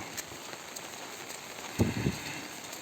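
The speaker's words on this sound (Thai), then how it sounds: "ตอนนี้ก็กลับแล้วครับฝนตกเปียก" Rain falls at a durian orchard where pineapples are grown between the trees, a steady soft patter close by with a few louder drips and splashes and no talking.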